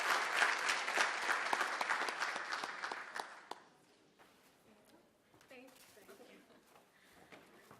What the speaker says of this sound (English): So can I get a bigger round of applause for these two students?